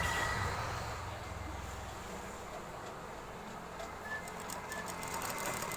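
A sewing machine stitches a shirt sleeve patti, running as a continuous rapid mechanical whir close by with no break.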